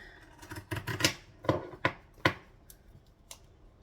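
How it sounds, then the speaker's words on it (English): Zigzag pinking scissors, blunt, snip through fabric along a curve in a series of crisp, uneven cuts close up, some quick pairs and some single chops, with no talking. "grab my zigzag scissors and just cut along this curve"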